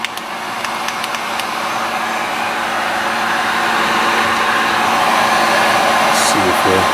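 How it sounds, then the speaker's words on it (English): Heat gun running close by with a steady, broadband whooshing roar that holds for several seconds and grows slightly louder, used while modifying a small ultralight camping trowel. "Let's fire up the heat gun."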